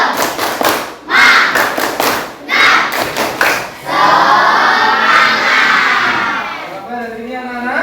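A class of schoolchildren performs a rhythmic spirit clap chant, with loud, near bursts of sharp, patterned clapping followed by a sustained group shout in unison.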